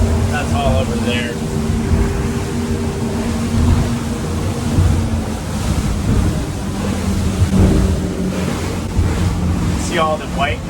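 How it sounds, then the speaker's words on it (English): Ocean surf and white-capped waves wash in beside a boat offshore, with steady, loud broadband wave noise, gusty wind across the microphone, and a low motor hum underneath. "Makes this huge amount of surf just in this one area"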